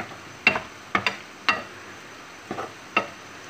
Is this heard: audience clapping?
no